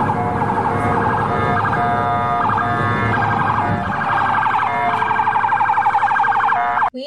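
A loud police siren wails and yelps in rapid warbling cycles, close and continuous, ending with an abrupt cutoff.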